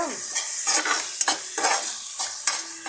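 Masala frying in a pan for a dal pickle curry, stirred steadily with a spoon: a continuous close sizzle broken by repeated scraping strokes, with no talking.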